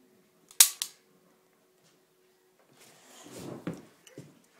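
A fake toy gun fires two quick sharp snaps in close succession, followed after a pause by indistinct voices and rustling.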